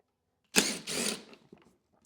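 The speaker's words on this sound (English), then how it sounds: "I like using the old DeWalt mini impact thingamabobber" A DeWalt mini impact driver works on 4 mm handle screws of a Husqvarna 450 Rancher chainsaw, giving two short loud bursts of buzzing hammering close by, followed by a few faint clicks and handling noises.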